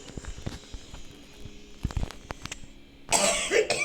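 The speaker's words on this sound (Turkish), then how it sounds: "Babaanne ikide bir niye öksürüyor?" An elderly woman's cough bursts out near the end after a stretch of quiet clicks and background noise, close and fairly loud.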